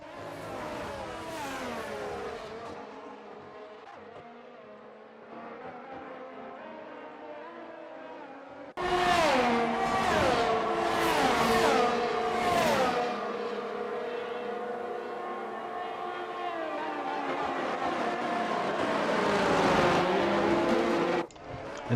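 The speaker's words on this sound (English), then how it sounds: "And as the drivers make their way through the circuit, Chris Padajak finds himself in the wall." Race cars lapping a United States Grand Prix circuit in an F1 racing video game, engines wailing and shifting through gears, softer at first and then louder and denser as several cars scream past in overlapping waves.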